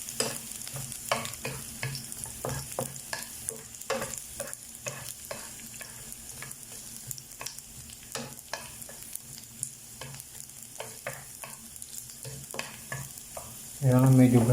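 Garlic frying in a pan as it browns, a steady sizzle broken by frequent scrapes and clacks of a stirring utensil, with a louder burst of activity near the end; no talking.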